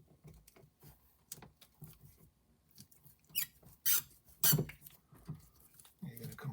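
Door lock parts from a Toyota RAV4 door lock actuator squeak in short sharp bursts amid light clicks and handling noise, with quiet talk beneath.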